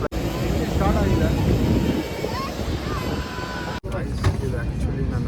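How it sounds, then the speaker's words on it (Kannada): A jet airliner's engines spool up at the start of an EasyJet flight from Luton Airport, roaring loud and continuous with wind-like rush, a brief cut near the end, then a steadier roar. "ನಾವು ಹೋಗ್ತಾ ಇರೋ ಫ್ಲೈಟ್ ಸ್ಟಾರ್ಟ್ ಆಗಿದೆ."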